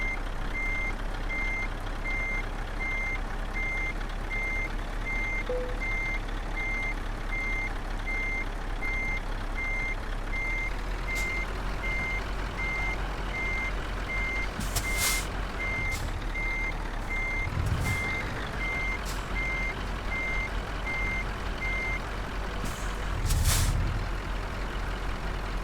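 A DHL Scania gigaliner truck in Euro Truck Simulator 2 reverses with a steady, evenly spaced electronic reversing beep over a low idling engine, broken by several sharp hisses of the air brakes.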